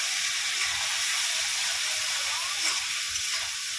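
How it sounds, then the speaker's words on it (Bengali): Spice paste seasoned with salt, a little sugar, turmeric and cumin powder fries in a pan for a rohu fish curry, giving a steady, close sizzling hiss that runs evenly without pause. "এবার মশলাটা ভালো করে কষিয়ে নেব।"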